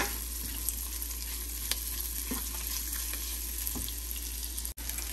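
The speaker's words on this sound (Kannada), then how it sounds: "ಸೊ ಈರುಳ್ಳಿ ಸ್ವಲ್ಪ ಕೆಂಪಗಾಗೋ ತನಕ ಇದನ್ನು ಚೆನ್ನಾಗಿ ಸ್ವಲ್ಪ ಫ್ರೈ ಮಾಡ್ಕೊಳ್ಳೋಣ." Sliced onions fry and sizzle in a pan for chicken rice, a steady hiss broken by a few soft scrapes of stirring, close and clear with no voices.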